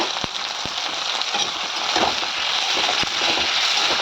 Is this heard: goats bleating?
no